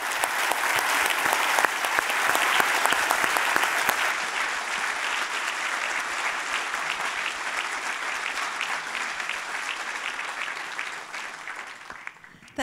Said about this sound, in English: join me for one final round of applause to him for writing a book